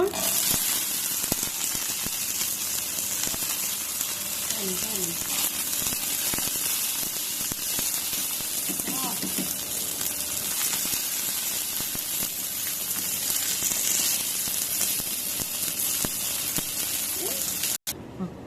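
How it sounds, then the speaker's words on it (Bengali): Cashews and raisins frying in a pan of hot oil while making chui semai, giving a continuous broad sizzle and hiss throughout with faint clinks of stirring. "কাজু বাদাম কিশমিশটা একটু ভেজে নিব।"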